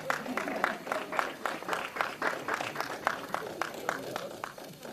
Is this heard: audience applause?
yes